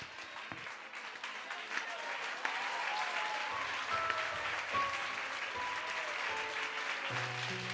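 An audience at a Christian gospel meeting in Mumbai claps steadily throughout, and a voice and some tonal sounds come through under the applause.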